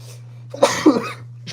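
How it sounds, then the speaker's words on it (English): A single sharp sneeze bursts out close to the mic over a steady low electrical hum, followed by a brief breathy tail. "I knew I had to sneeze"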